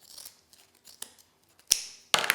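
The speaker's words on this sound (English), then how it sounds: "And cut those." Scissors snip through ribbon in a series of quick, crisp cuts, close to the listener, with a louder double snip near the end and no talking.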